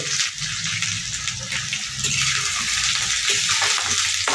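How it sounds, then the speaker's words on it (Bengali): Spices frying in hot oil for taki fish bhorta give a steady, close hiss and sizzle with faint stirring clatter, continuous for several seconds and free of talk. "আমরা প্রথমে তেলের মধ্যে মশলাগুলো দিয়ে দিব"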